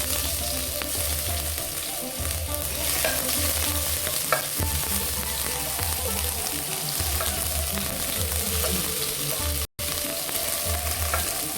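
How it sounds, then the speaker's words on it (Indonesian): A ground paste of garlic, ginger and chili sautéing in hot oil for hot and sour chicken soup, giving a continuous close sizzle with occasional scrapes of stirring and one sudden brief dropout, no voices. "Pertama sekarang kita akan tumis dulu bumbu yang tadi dihaluskan ya, bawang putih, jahe dan cabai"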